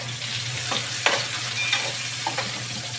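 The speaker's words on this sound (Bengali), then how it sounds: "আমি একটু রসুন দিয়ে দিলাম। কিন্তু আমি পেঁয়াজ দিয়ে দিলাম।" Garlic and onion frying in a pan while being stirred, a steady loud sizzle throughout with a few utensil scrapes and taps against the pan, close up and without talking.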